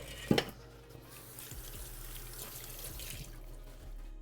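Juice is poured over a salad in a kitchen, a brief splashing pour near the start followed by a steady low watery trickle and faint kitchen background.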